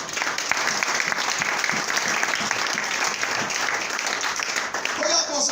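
A church congregation applauds and cheers loudly throughout, dense steady clapping mixed with voices and shouts, filling the space without pause.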